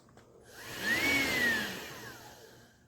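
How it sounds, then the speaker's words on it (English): A Hoover ONEPWR Evolve Pet Elite cordless stick vacuum switching on, its motor whining up to a steady high-pitched drone, peaking briefly and then winding down, heard close and alone. "I am now going to turn the vacuum on."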